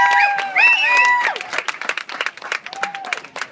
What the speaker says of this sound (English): a nice big round of applause for the Sash and Sash.